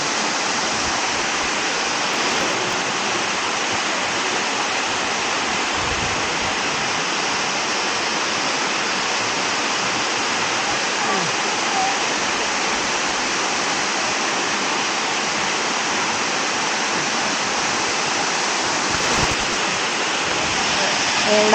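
A waterfall at Pattathippara in a forest, its water dropping from above, makes a steady, loud, unbroken rush that holds evenly for the whole stretch, with no other sound standing out.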